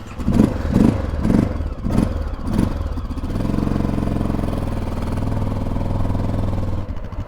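A motorcycle engine on a Colorado Continental Divide ride is cranked over several times in quick chugging pulses, then catches and settles into a loud, steady close idle.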